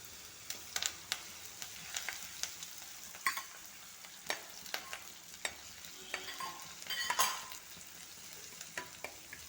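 Crushed ginger, garlic and curry leaves fry in hot oil with a steady close sizzle, broken by sharp crackles and pops and a louder spurt of spattering near the end.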